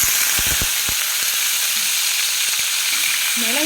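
Urad dal and cumin seeds frying in hot oil in a pan for brinjal kuzhambu, a loud, dense, continuous sizzle with a few low knocks near the start and no talking.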